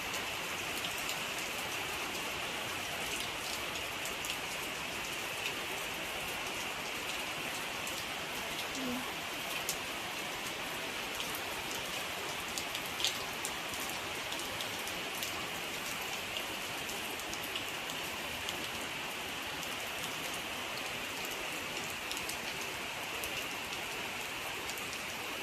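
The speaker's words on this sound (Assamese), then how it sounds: "বতৰ বহুত বেয়া বৰষুণো দি আছে" Steady rain pours outside in bad weather, a continuous soft hiss of drops on surfaces that stays even and fairly faint for the whole stretch, with no talking.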